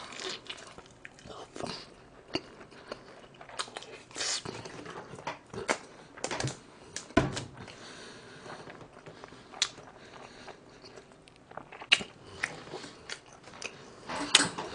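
Someone eating Spam during a mukbang of instant snack noodles, rice and salted seaweed, with close, irregular bites and soft chewing and crunching spread across quiet stretches.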